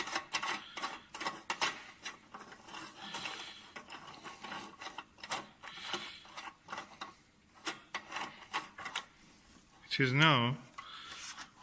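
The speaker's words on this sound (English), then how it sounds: "This will be screwed to the top of the eyepiece mount" A part is screwed onto the eyepiece mount of a SkyWatcher Explorer 150P reflecting telescope, heard as bursts of close ratcheting, scraping thread clicks, with someone speaking between them.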